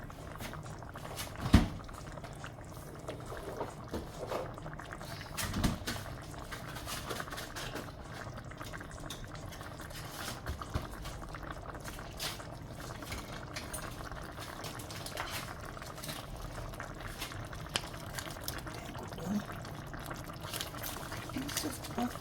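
Beef neck bone brown stew simmering and bubbling steadily in a covered pot, a soft continuous boil with a few small clinks, heard close up with faint talk at times.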